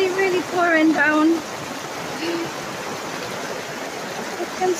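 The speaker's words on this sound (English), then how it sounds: "it's absolutely pouring rain in the wild garden here" Heavy rain pours down in a wild garden, heard from beneath a gazebo as a steady, dense wash of noise that holds at an even level throughout, with a person speaking briefly over it near the start.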